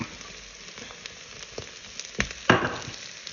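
Chopped garlic goes into sweated onions sizzling in a Pressure King Pro pressure cooker, giving a steady close frying hiss with a few sharper crackles and a louder burst of sizzle near the end.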